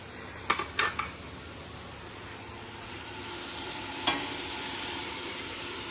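Green peppers and onion sizzling in a pan for a Spanish dish, a soft, steady sizzle that gradually swells, punctuated early by a few sharp clatters and a single later knock.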